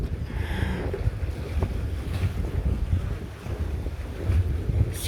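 A fleet of boats, including square riggers, gaffers and power boats, out on open water with strong wind buffeting the microphone, waves washing steadily, no voices.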